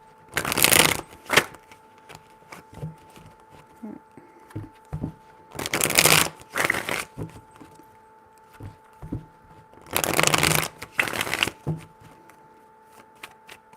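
Tarot cards are riffled and shuffled in three close, crisp bursts spaced several seconds apart, with soft handling taps and a steady faint tone between them, and no talking.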